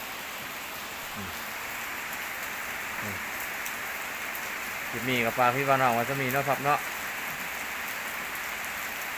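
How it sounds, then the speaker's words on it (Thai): Steady early-morning rain pattering on surfaces in a rural northeastern Thai village, a continuous soft hiss throughout, with someone talking briefly in the middle. "บรรยากาศฝนตกตอนเช้าๆครับ"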